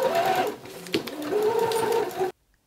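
A sewing machine running steadily as it sews a jacket cuff closed, a close, continuous mechanical whir that stops abruptly into silence.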